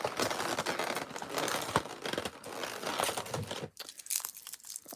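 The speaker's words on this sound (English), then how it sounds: "Now I'm gonna take the tape off and get them out." Sticky packing tape crackles and rips continuously off plastic and cardboard packaging while a Revoltech Batman figure is unboxed, a dense close crinkling that runs for several seconds before stopping abruptly near the end.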